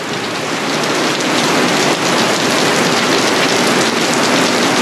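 Steady, heavy rain pours down, a dense continuous hiss of drops hitting surfaces, loud and close with no other sounds.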